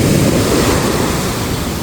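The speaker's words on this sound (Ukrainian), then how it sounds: "сьогодні море щось розходилося, як скажене" Loud, rough sea surf on an island in British Columbia crashing continuously with heavy low rumble and wind noise, no voices.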